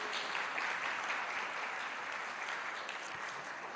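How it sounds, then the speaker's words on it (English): A crowd at the official launch of the Jamaica Legal Information Portal applauds an interpreter with a dense, even round of clapping that stays steady throughout and eases off slightly near the end, with no voices over it. "give her a round of applause"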